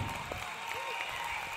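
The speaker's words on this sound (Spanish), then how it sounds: "un aplauso para la gente que está acá en el foro" Studio audience on a Spanish-language comedy talk show clapping for the people on the set, a short burst of applause mixed with talking voices over it.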